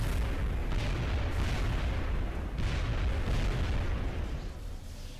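Heavy, continuous explosions and rumbling blasts from the video game XCOM Enemy Unknown, loud and dense throughout with repeated bursts, no talking.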